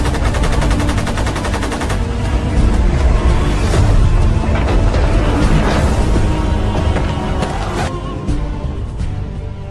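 Gunfire sound effect of an armed clash with Dutch forces: loud, dense, continuous machine-gun and rifle fire with overlapping bursts.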